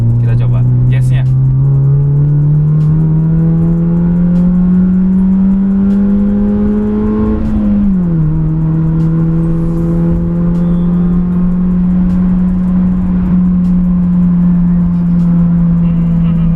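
A Honda Jazz engine drones loudly from inside the car on a test drive. Its pitch climbs steadily under acceleration, dips sharply at a gear change and then holds steady, with brief voices near the start.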